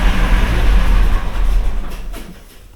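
Internal combustion engine with a knock, revved under load: a loud, deep rumbling drone that swells and then fades over a few seconds, with no talk.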